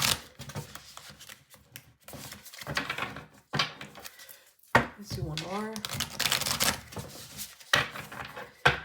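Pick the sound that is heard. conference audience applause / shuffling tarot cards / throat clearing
shuffling tarot cards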